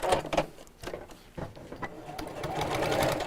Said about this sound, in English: I'm just literally sewing just across the end of the handles